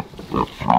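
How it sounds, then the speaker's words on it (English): Newborn piglets from a sow's first litter grunting and squealing softly in their nest, a few close, short bursts rising toward the end. "We have these little piglets."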